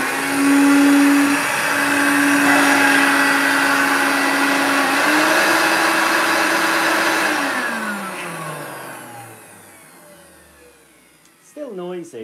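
A vintage vacuum cleaner with suspected worn agitator bearings runs loudly with a steady motor whine that drops in pitch and winds down toward the end, followed by a few brief clatters.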